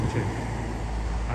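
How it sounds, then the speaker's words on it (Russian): Road traffic beside a rapeseed field in mountain country, a steady low rumble of passing cars with no speech, fairly loud and continuous. "Здесь машины шумно"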